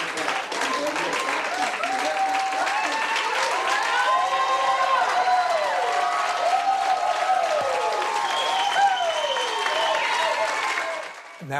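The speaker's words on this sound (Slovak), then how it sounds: "Počujete potlesk?" Sustained audience applause at a church service, heavy continuous clapping with excited cheering and shouting voices rising and falling over it, fading slightly near the end.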